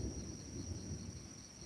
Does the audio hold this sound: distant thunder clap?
yes